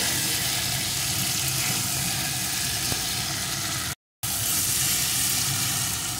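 Fried pointed gourd sautéing with spice paste for potoler dorma: a continuous loud sizzling hiss, broken once by a brief moment of silence before the sizzle resumes.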